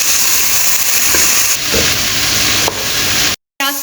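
Onions frying in three tablespoons of oil for a masala with okra, a steady dense sizzle and hiss filling the clip, close and loud, broken by a brief dropout near the end.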